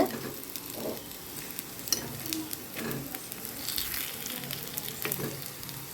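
Sweet potato suiyam frying in hot oil on a medium flame, a close, steady bubbling sizzle broken by occasional clinks and scrapes as the pieces are turned, with no speech.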